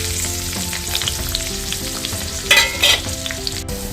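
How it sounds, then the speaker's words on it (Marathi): Garlic, ginger and green chillies fry in hot oil in a pan for spinach-ball gravy, giving a steady close sizzle with a couple of louder spitting, stirring bursts near the end. "दोन मिनटं आलं लसूण आणि मिरची छानपैकी परतून घेतलेली आहे तेलावर"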